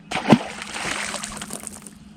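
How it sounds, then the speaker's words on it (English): A bass splashes down into lake water beside a fishing boat, one sharp splash followed by sloshing and trickling water, fairly close. "What sucker splashed down the water too? Threw water all over the boat when he went down."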